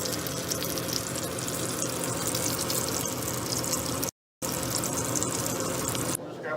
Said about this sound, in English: Just sit here and watch the bacon sizzle.